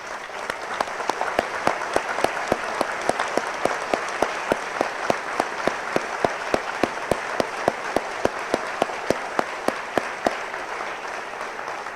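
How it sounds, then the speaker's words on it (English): Steady, rhythmic applause from a seated audience at a police academy graduation ceremony, clapping in honour of family members, sustained and fairly even for about ten seconds before tapering off. "Let's give them a big round of applause."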